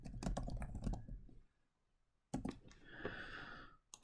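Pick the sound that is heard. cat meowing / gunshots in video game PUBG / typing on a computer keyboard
typing on a computer keyboard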